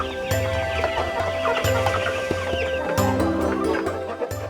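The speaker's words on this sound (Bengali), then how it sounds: "এই লম্বা লাল পালকওয়ালা মোরগ একসময় পাহাড়ে, বনে জঙ্গলে হরহামেশাই দেখা মিলত।" Long red-feathered hill rooster and hens on a farm, clucking steadily in close, repeated bursts with an outdoor murmur behind them.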